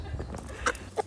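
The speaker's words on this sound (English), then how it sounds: "this is the feral chicken" A feral hen gives a few short, close clucks, with soft background room noise between the calls.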